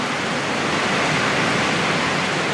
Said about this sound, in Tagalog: Ito yung ulan.